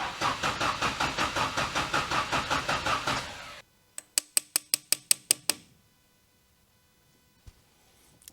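A carbureted rally car engine is cranked by its starter in a rapid, rhythmic chugging run that does not catch, followed by a few sharp clicking cranks and then near silence.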